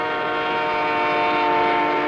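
A passenger train's horn blares in one long, steady, loud chord over the rumble of the moving train crossing Ontario, Canada.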